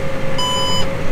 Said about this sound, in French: Et là, dès que ça bip, tu t'arrêtes.